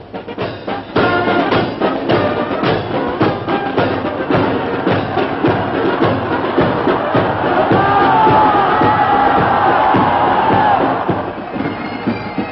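A large Paris crowd at the November 11, 1944 liberation parade cheers British troops marching past, a loud, continuous roar of voices with shouts rising over dense clapping and bustle.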